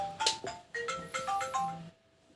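A phone ringtone plays a short melodic run of bright electronic notes, fairly close and clear indoors, then cuts off abruptly into quiet.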